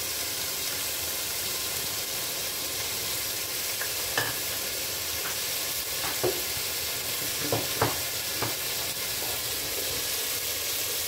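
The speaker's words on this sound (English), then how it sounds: "Now add the finely chopped onions." Finely chopped onions fry in hot oil and ghee inside a pressure cooker, giving a steady, close sizzle. A few light scrapes from stirring break through now and then, with no voices.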